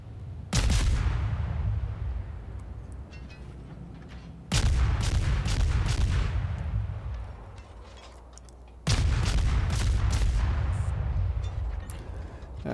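Warship guns fire on a destroyer in World of Warships, three heavy booming salvos a few seconds apart, each a loud blast trailing into a long rumbling decay.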